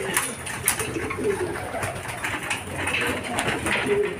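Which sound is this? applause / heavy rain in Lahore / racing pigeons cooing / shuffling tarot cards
racing pigeons cooing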